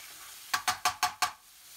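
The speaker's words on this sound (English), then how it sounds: "Add the ginger and garlic and stir in. Fry for another 30 seconds before adding the mixed powder." Ginger and garlic stirred and fried in a pan for a British Indian restaurant-style dhansak, heard as five quick, evenly spaced scraping sizzle bursts close by, with no talking.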